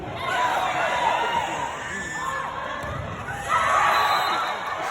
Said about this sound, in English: the crowd was going crazy